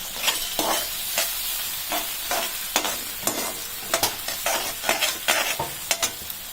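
Chilli potato pieces sizzle steadily in a hot pan while a spoon or spatula scrapes and stirs them in a quick, uneven rhythm of sharp clatters over the constant frying hiss, close by with no voices.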